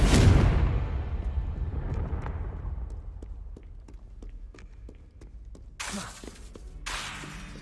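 A Confringo spell blast in Hogwarts Legacy, a loud burst that bursts and fades over a few seconds into scattered crackling debris and ticking, with two more bright bursts near the end.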